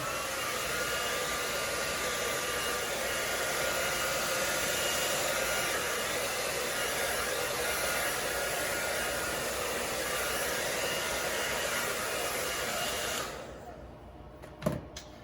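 A blower streams air steadily across a painting for about thirteen seconds, pushing orange and yellow paint colors off the edge in a string-pull blowout technique, then cuts off, leaving a few faint knocks.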